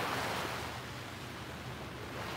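Gulf of Mexico surf on the Southwest Florida shore, a steady broadband wash of waves with light wind noise, fairly soft and continuous, no voices.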